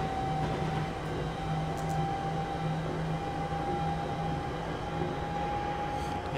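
A Class 350 electric train passes on the West Coast Main Line in the Trent Valley, heard as a steady, even rumble with a sustained tonal whine throughout and no voices.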